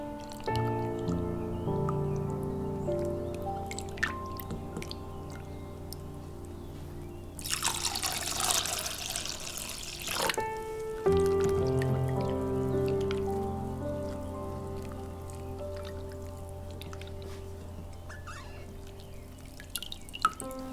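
Scallops are rinsed clean in water, giving a roughly three-second burst of splashing and sloshing midway through, set against a soft, steady tonal background with occasional faint drips.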